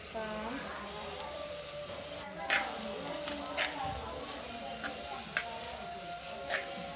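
Sliced onions fry in a pan with a soft, continuous sizzle, punctuated by occasional light clicks as a spoon stirs them. Close but fairly quiet.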